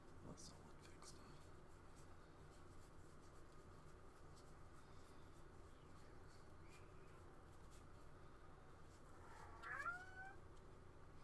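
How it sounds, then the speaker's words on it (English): A cat meows briefly and faintly near the end, set against a quiet, hissy background during a Magic: The Gathering match, with soft scratching noises earlier on. "there's a cat over here."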